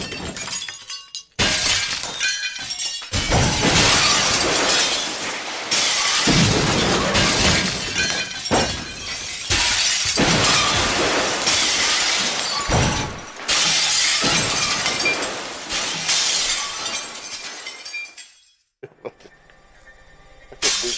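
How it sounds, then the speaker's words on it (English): Glass thrown against a wall bursts into a loud, near shatter, followed by repeated crashing and tinkling of shards over several seconds before quieter debris at the end. "We need a glass we can break when we got breaking news. You got one we can throw against the wall?"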